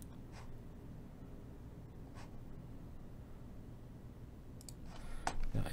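Computer mouse right-clicking during a software install on a PC, a few faint, sharp isolated clicks spaced apart over a quiet low hum, with a cluster of quicker clicks near the end.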